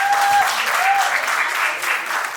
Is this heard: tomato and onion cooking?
no